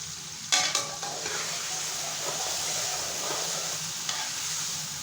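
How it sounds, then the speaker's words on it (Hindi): Chicken sizzles and fries in a pan with garlic, ginger and onion, a steady close hiss with a few sharp clatters of stirring near the start. "चिकन को लहसुन अदरक और प्याज के साथ 2-3 मिनट तक फ्राई करेंगे।"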